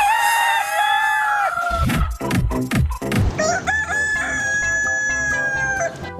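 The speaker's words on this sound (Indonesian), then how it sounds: "Keluarlah ayam jago." A toy rooster crows loudly and close by, a long wavering cock-a-doodle-doo split by a brief clattering break, then a second sustained crow that holds to the end.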